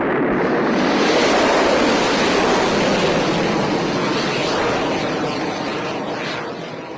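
A rocket launch ignition gives off a loud, dense, continuous roar with a rumbling low end, holding steady before tapering off in the last second.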